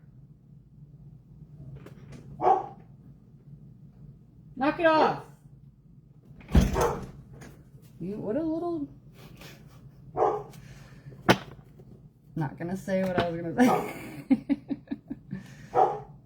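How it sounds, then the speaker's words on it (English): A dog barking at neighbors over a fence outdoors, giving scattered sharp barks and yips, several in a quick run near the end, moderately close, with a person scolding between them. "he's barking at my neighbors"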